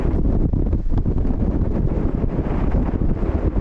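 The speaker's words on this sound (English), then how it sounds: "It's very windy up here." Strong wind buffets the microphone in a steady, roaring rush, loud and close, with no voices.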